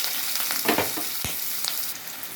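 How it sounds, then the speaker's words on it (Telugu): Onions hitting hot oil in a pan set up a steady, close sizzling hiss, with a few short scraping stir sounds near the start and middle; no voices. "ఇప్పుడు ఉల్లిపాయలు వేసేద్దాం."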